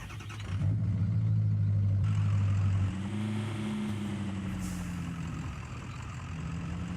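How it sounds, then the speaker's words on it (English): A mega monster truck engine in the off-road driving game Spintires drones with a steady low hum that briefly lifts in pitch as it accelerates, then settles into a continuous rumble with no talk. "You know, I want to take the monster truck."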